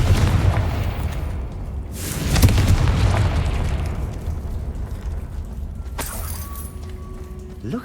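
A booming blast from the Confringo spell in Hogwarts Legacy swells and rumbles, then fades into a lingering roar, with a sharper burst and clinking near the end.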